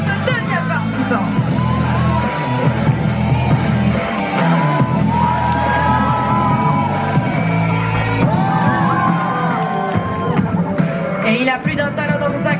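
Loud whoops, yells and cheering rise from a crowd at a cosplay contest, greeting a participant over steady, thumping background music.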